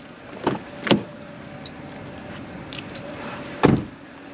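A door is pushed shut with a few dull thuds, two close together early on and a louder one near the end, over quiet background noise.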